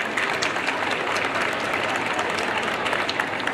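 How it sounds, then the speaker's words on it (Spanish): Steady, dense applause from a large audience at a school event, continuous clapping at an even, fairly loud level throughout with no pauses. "Para ellos también les pido un fuerte aplauso."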